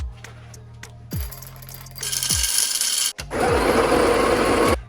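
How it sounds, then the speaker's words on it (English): Coffee beans are ground to a medium-coarse grind in a grinder, a loud whirring burst that stops briefly and then resumes steady and strong for several seconds. "measuring 20 grams of coffee and grinding it to a medium coarse grind"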